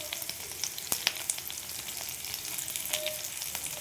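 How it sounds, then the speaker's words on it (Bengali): Grated ginger, green chili and curry leaves frying in hot oil, a soft continuous sizzle with crackling pops and faint stirring, fairly quiet and close, no voices. "এবার একটু ভেজে নেব"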